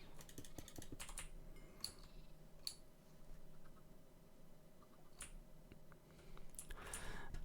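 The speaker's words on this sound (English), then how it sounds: "I should maybe be a little more gentle to my keyboard." Hard typing on a computer keyboard, quiet and close: irregular bursts of sharp key clicks and heavier hammered strikes, clustering toward the start and end with calmer gaps between.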